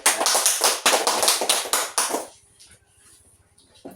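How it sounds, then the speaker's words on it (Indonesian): Rhythmic group clapping at the close of a classroom group discussion in a Christian religious education lesson, about eight loud, even claps in quick succession lasting two seconds before fading into near silence. "Memberikan aplaus."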